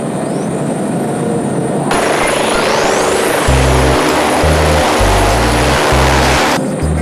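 Aircraft engine and propeller roaring steadily during takeoff, loud and close, the pitch shifting as power builds, with no talking.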